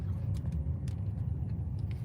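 Low, steady rumble inside a car while driving, a dense bass drone with faint intermittent clicks and rattles above it, no voices.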